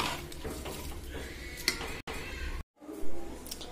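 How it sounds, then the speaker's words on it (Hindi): A pressure cooker holding rice is shut, giving metallic clanks and scraping rattles as the lid is worked into place nearby, with a brief pause partway through. "अब मैं कुकर को बंद कर दूंगी।"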